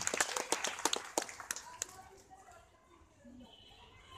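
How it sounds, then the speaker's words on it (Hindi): Scattered, fairly close clapping from an audience at a Kidzee school annual function, a brisk flurry that fades out after about two seconds into quiet room tone. "मैं चाहूंगा सर लोगों के लिए जोरदार तालियां"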